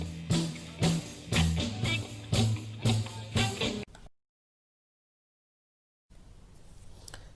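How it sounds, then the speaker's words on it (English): A tango example as a European dance style, with strongly accented rhythmic chords in a steady march-like pulse, loud and alone, cutting to silence midway before faint low noise returns. "And the tango would sound something like this."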